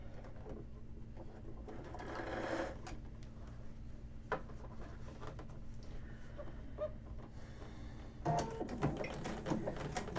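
A sewing machine top-stitches the facing of a men's shirt placket at a small 3.0 stitch length, a soft mechanical whir running steadily through the clip with a few clicks and a brief stronger burst near the end.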